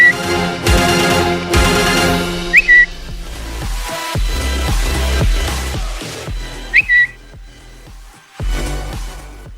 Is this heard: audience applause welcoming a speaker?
no